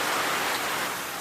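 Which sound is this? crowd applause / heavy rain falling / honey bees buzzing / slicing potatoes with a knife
heavy rain falling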